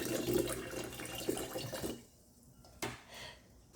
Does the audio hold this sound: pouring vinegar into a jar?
yes